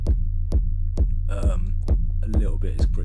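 A techno rumble kick built in Ableton 12 pounds in a steady pulse, about two hits per second, each deep thump trailed by a distorted, pumping low-end drone, loud and upfront, with a voice talking over it.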